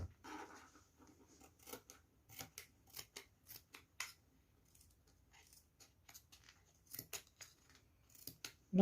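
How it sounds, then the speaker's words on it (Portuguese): Scissors snip through material for a macrame feather, a series of short, crisp, close cuts in uneven bursts with brief pauses between them. "E vamos cortando então."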